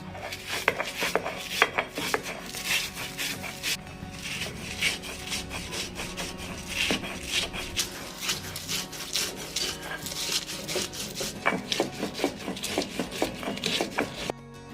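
Green chilies being coarsely crushed on a stone grinding slab for a ridge gourd thecha, steady scraping and rubbing strokes repeating close up for about fifteen seconds with no voices.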